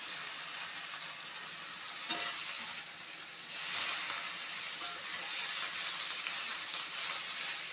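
Greens and tomatoes sizzling and frying in a pan, a steady close hiss with brief stirring scrapes and a surge of steam partway through, no talking.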